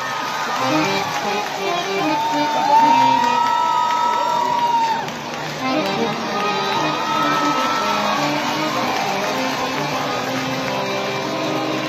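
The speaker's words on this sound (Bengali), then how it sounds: "মঞ্চে অদিতি মুন্সি, জোরে একটা হাততালি।" A dense crowd at the Purba Bardhaman Zilla Sabala Mela, a district fair, cheers and shouts steadily as a performer comes on stage, with a sustained whistle-like whoop early on and loud, unbroken crowd noise throughout.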